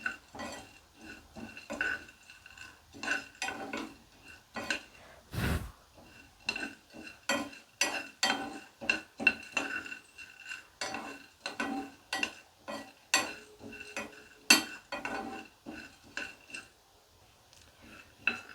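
Seeds roast in a pan while a spoon stirs them, producing a rapid, rhythmic series of scraping and clinking strokes against the metal, fairly close and steady throughout, with no voices.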